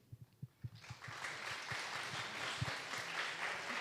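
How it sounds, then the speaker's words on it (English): An audience applauds for Nikki at a pitch competition finale; a few soft thumps give way to a steady wash of clapping from the room, fairly quiet and unbroken. "big applause for Nikki"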